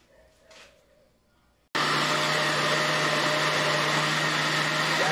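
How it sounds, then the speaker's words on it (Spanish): A kitchen blender abruptly switches on and runs loud and steady, whirring through strawberries for a banana and strawberry ice cream after a brief quiet stretch. "Ya que estoy licuando la fresa"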